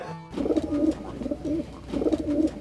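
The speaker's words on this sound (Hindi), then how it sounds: "कबूतर" Pigeon cooing in repeated soft, throaty phrases, steady and close, with a low background hum, in a TV comedy scene.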